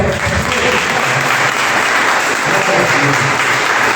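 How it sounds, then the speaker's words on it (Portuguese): A church congregation at a family worship service bursts into loud, continuous applause, a thick even wash of clapping that holds steady for the whole stretch, with a faint murmur of voices underneath. "Olha, aplaudir você."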